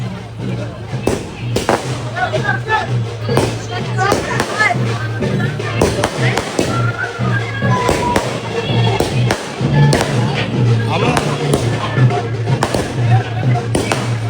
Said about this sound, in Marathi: इकडे आतमध्ये फटाका वाटत.